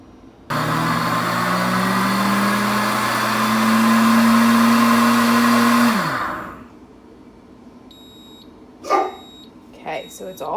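A deluxe cooking blender spins and heats sweet potato soup with a loud, close motor whine that climbs slowly in pitch for several seconds, then winds down to quiet. A few faint beeps and clicks follow.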